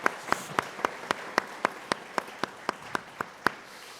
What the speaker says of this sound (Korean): 인사할 때 박수로 축복해 주시기 바랍니다.